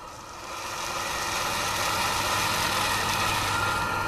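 A TK22 RC tank's motors whirr up under full throttle into a steady, loud, close mechanical drone that holds through to the end, with no voices.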